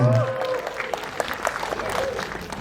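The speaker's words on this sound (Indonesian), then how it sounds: "Tepuk tangan untuk Tretan Muslim" A press conference audience applauds Tretan Muslim, cast member of the film FOUFO, with a moderate, even wash of clapping and a faint tonal sound underneath.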